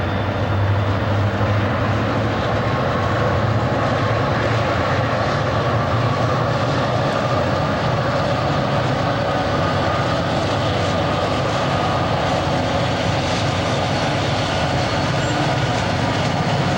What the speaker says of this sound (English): An SD60M leads a C40-8 sandwiched between two SD40-2s eastbound out of Roseville with a grain train.